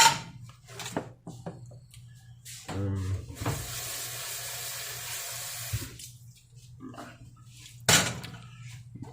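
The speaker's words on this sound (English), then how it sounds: "We are going to add a little bit of water to it." Water pours and splashes from a tap into a cooking pot on a stove, a steady hissing gush that swells for a few seconds before easing off, with clanks and knocks of cookware around it.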